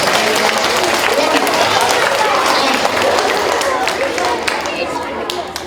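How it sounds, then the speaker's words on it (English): Students in a school assembly applaud themselves, loud dense clapping mixed with cheering and excited chatter, fading slightly toward the end. "give yourselves a nice round of applause"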